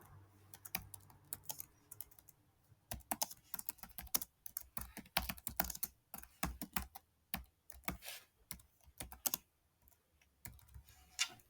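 Code is typed on a computer keyboard during a VS Code setup, in close, irregular bursts of crisp keystroke clicks with short pauses between flurries, and no one speaks.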